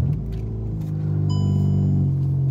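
VW MK6 GLI cold start with a low, rumbling exhaust idle that rises into a steady high-idle drone, heard close up with no talking.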